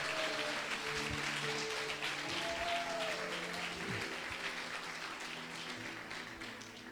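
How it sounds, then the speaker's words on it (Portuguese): An evangelical conference congregation applauds loudly and continuously, the clapping sustained throughout and slowly tapering near the end, with faint voices or music tones threaded underneath. "Aplaude a Jesus, irmão, com força, com coragem,"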